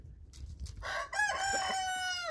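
A hen crows outdoors in a backyard flock, one drawn-out cock-a-doodle-doo rising after a few soft clucks and fading at the end, close and clear with no talking.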